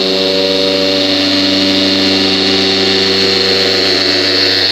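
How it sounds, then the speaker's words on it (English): Random orbital buffer polishing the black paint of a Honda Accord, a loud, steady whirring drone with strong motor tones that holds unbroken and close for the whole stretch, with no talking. "if you're using a good oscillating buffer like this, random orbital"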